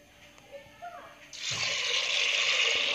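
Water pours steadily into a pressure cooker holding sprouted horse gram, a sudden rushing splash that starts partway through after a few quiet kitchen clinks and carries on loud and close to the end.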